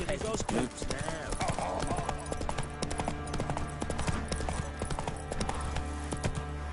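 Horse hooves clip-clop in a steady, rhythmic trot in The Witcher 3, close and clear over a dense bed of game ambience with voices in the background.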